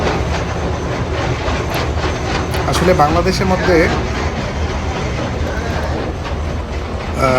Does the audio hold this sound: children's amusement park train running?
yes